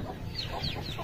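A hen, kept with Aseel fowl and chicks, gives a quick series of close, soft clucks with no talking in the short stretch.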